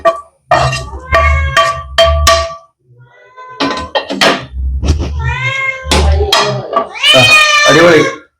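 A cat meows close by in a quick series of loud, drawn-out cries with short pauses between them. The longest, most insistent call comes near the end.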